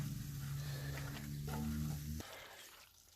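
Sweet potato al pastor mixture sizzling steadily in a pan as it reheats with a cold marinade stirred in, a close, continuous crackle with a faint scrape partway through.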